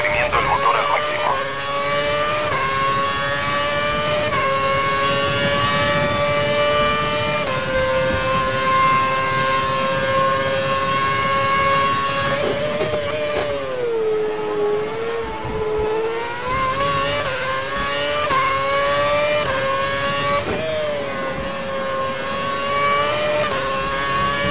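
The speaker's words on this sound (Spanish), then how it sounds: "Está exprimiendo el motor al máximo." An F1 race car engine in F1 2011 screams at full power during an online race at the Italian Grand Prix, a loud sustained high-pitched whine rising and dipping with gear changes throughout.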